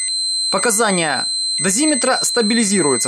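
A Terra-P dosimeter's audible radiation alarm sounds as a steady, high-pitched electronic tone that runs continuously while a person speaks over it.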